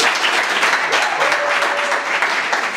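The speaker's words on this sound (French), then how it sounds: "Applaudissez pour lui." Audience applause fills a live comedy show in Goma, a steady dense wash of clapping that stays loud and even throughout, with a faint voice underneath.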